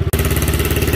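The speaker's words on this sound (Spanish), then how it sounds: "la motocicleta sigue funcionando muy bien" A hot motorcycle engine idles steadily after a spark and stalling fault has been repaired, its close, even low throb pulsing without a break after a very brief dip at the start.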